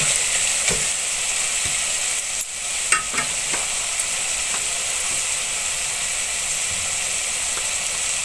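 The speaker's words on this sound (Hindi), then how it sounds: "अब मसाले को थोड़ी देर हम मिक्स कर लेंगे।" Spices including turmeric and Kashmiri chilli sizzle steadily in hot oil in a pan for potato and pea curry, with a few louder stirring scrapes and clinks over the continuous frying hiss, close and without talk.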